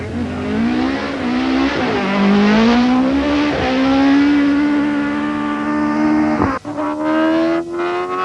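A Ford Escort RS1800 rally car at the 1989 Ashley Forest Rally, its engine loud and close, revving hard through several gear changes with rising, sustained howls before a sharp drop and rough idle.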